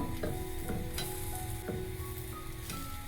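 Chilli idli sizzling steadily in an oiled pan as it is turned over and fried, with several clear scrape-and-stir knocks breaking through the continuous close, fairly loud crackle.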